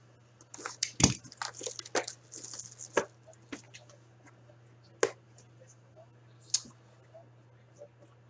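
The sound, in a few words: opening a box of Clear Cut hockey cards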